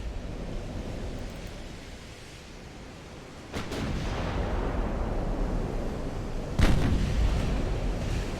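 Naval artillery fire in Ultimate Admiral: Dreadnoughts, a war game, with heavy booming gun blasts over a continuous rumbling sea-and-battle roar, two big salvos standing out.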